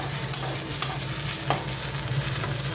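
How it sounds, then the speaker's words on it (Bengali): Neem leaves fry in a small amount of oil, a loud, close, steady sizzle over a low hum, with three or four sharp scraping clicks as a spatula stirs them around the pan. "দেখো কতটা ছিল নিম পাতা, কতটুকু হয়ে গেল, আরও হবে ভাজা।"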